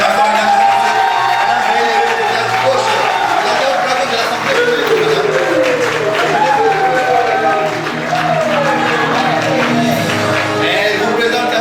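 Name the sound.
wedding guests cheering and applauding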